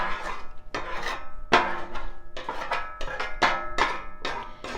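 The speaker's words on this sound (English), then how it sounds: "You can hear when you're scraping it that there's no pieces left on it" A metal scraper rasps across a clean, dry, oil-free griddle in a run of about ten sharp, gritty strokes, close and loud with short pauses between them.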